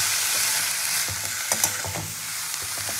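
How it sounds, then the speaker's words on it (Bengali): Fenugreek greens stirred and fried in hot oil give a steady close sizzle, with repeated scraping stir strokes over about three seconds and no talking. "শাকটা তেলের মধ্যে নাড়াচাড়া করে"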